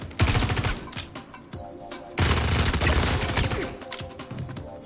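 Behring P4-AR fully automatic rifle firing in Star Citizen 4.2.1, loud rapid bursts of gunfire close up, one burst, a brief lull, then a longer sustained stream of shots with no talking.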